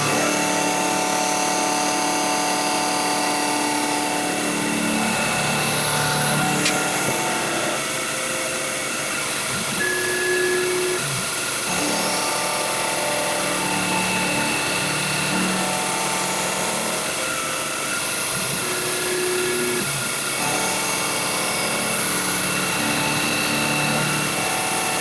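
Machining passes on a metal motor clamp for a toolpost grinder, a continuous loud machine whine and cutting hiss with tonal hum shifting across long passes, no talking.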